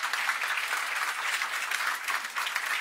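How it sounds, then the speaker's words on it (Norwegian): An audience applauds at a climate breakfast debate in Norway, with steady clapping that is close and even for about three seconds and no talk over it. "Du med en applaus først, selvfølgelig."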